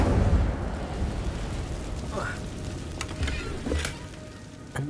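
Incendio fire spell cast in Hogwarts Legacy, a rumbling fiery burst at the start that settles into a crackling, sizzling roar, with a few sharp pops and swishes on top.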